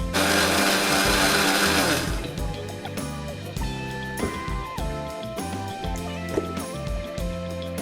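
An electric mixer grinder whirs loudly as it grinds a masala paste for Malenadu kaalu kadubu, then stops and starts in short, uneven bursts.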